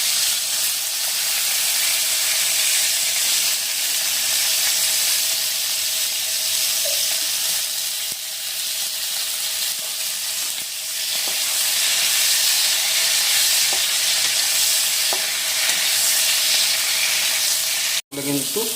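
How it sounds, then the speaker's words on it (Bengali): Pointed gourd (potol) fries in hot oil, a dense, constant sizzle and hiss filling the whole stretch, with a few faint stirring taps. "তেল কিন্তু গরম হয়ে গেছে, আর এখন আমরা পটলগুলো দিয়ে নেব"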